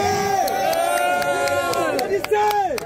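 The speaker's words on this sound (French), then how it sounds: "Applaudissez!" A rally crowd in Guinea cheers and chants in loud, overlapping voices, with rhythmic claps punctuating the sustained roar close up.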